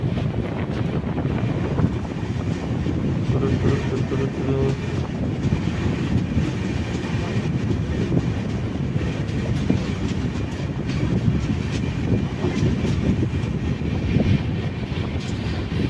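A train rumbles steadily along the tracks into Kollam Junction railway station with rattling wheels and wind buffeting the microphone, loud and continuous throughout.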